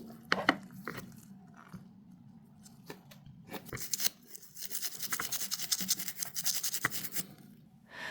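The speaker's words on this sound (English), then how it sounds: "I rinse the coin and brush off the remaining dirt with a soft toothbrush." A soft toothbrush scrubs dirt from an ancient Roman follis coin, giving close, irregular scratchy brushing strokes that grow denser and more continuous toward the end.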